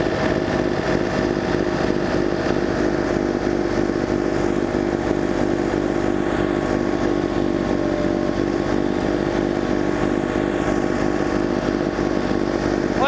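A small engine-driven snow blower chews through thick snow deep enough to reach the top of its housing, its motor droning steadily and close with a rough, churning texture throughout.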